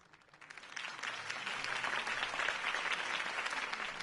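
Applause from a crowd in the video game Batman by Telltale swells up from quiet and keeps going, a dense patter of many hands clapping at moderate distance.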